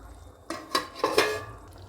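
A lid clatters onto a cooking pot of egg biryani gravy, a few quick metallic clinks and knocks in a short cluster, close and alone.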